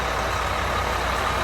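A truck engine idles close by in a steady, loud, low rumble as the driver eases it into position for a service call, with no other sounds over it.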